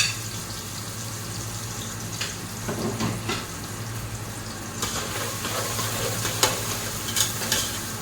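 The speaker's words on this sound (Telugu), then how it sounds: "ఇప్పుడు కూడా ఆనియన్ వేసుకున్నాను" Onion frying in a pan for chicken machboos makes a steady close sizzle with scattered stirring clatters and a faint watery bubbling underneath, with no talking.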